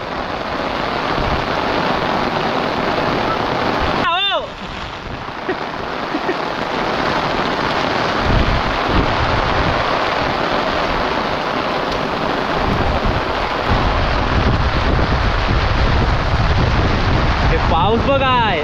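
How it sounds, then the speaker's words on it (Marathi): Heavy rain pours steadily and loudly throughout, a dense continuous roar with a brief dip early on; no distinct thunderclap stands out. "पाऊस बघाय"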